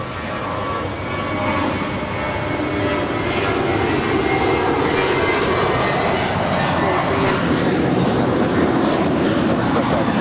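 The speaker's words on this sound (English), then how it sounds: "This United A320 is departing to Puerto Vallarta, flight 319" A United Airbus A320 jet departing Los Angeles airport, a loud sustained broadband engine roar that holds steady and close throughout, with a voice faintly present underneath.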